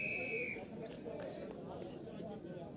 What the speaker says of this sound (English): Big penalty there, whistle goes